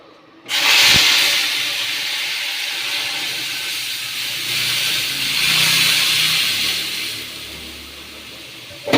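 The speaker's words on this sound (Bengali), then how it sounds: "এবার এই ডালটা ফোড়ন দিয়ে দেবো" Lentils (dal) tempered in hot oil in a wok burst into a loud, sudden sizzle that holds as a steady hiss for several seconds, swelling and easing slightly.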